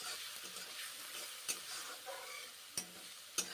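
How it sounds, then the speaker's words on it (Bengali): Onion paste and spices sautéing in a pan: a soft, steady sizzle marked by three sharp clicks of a spoon striking the pan. "পেঁয়াজ বেটে কষে নিচ্ছি এবারে মশলা মশলা কষে নিচ্ছি"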